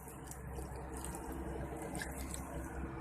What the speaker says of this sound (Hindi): तो चलें यूँ आहिस्ता आहिस्ता से इनको साइड से पानी दे देती हूँ।